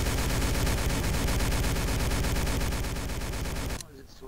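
Rapid, continuous automatic fire from an MP41 submachine gun aimed at a wall in a video game, a loud dense burst lasting nearly four seconds before cutting off abruptly into quiet.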